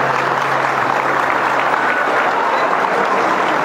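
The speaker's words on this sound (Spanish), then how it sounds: "Para ella un fuerte aplauso." An outdoor crowd at a San Pedro festival round in Aipe, Colombia, claps steadily and loudly for a festival pageant candidate, a dense, even applause that holds for several seconds with faint voices in it.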